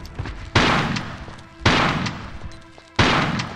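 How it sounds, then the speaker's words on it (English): Grenade launcher fire in Tomb Raider: The Last Revelation, aimed at bats, with three loud, sharp blasts spaced about a second apart, each decaying into a noisy rumble, with no talking. "I'm shooting grenades at bats."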